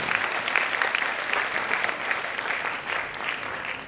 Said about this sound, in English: A big round of applause for the campaign